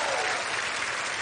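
An audience applauds a performer with a loud, dense, steady burst of clapping that fills the whole moment without pause.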